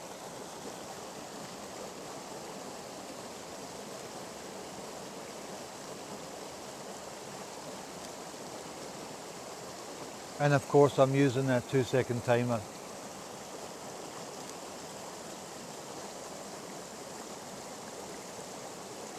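A waterfall and stream flow steadily, a constant soft rushing wash throughout, briefly overlaid by someone speaking near the middle.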